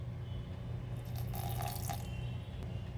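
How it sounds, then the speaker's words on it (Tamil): A quarter cup of water is poured into a ground rice flour batter for appam, giving a soft, continuous splashing trickle that swells briefly in the middle, close by and fairly quiet. "இப்போ 1/4 கப்பு தண்ணி சேர்த்துக்கிறேன்."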